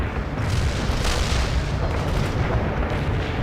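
Artillery rounds pound a target in the strategy game World in Conflict, a dense, continuous rumble of booms and blasts with no talk over it.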